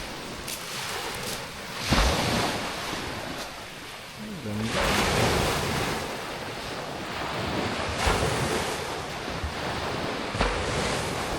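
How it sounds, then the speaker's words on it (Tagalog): Sea waves rolling onto a shore in Marinduque with heavy wind buffeting the microphone, a continuous loud surging wash with periodic swells; a person briefly speaks over it. "Ang dagat."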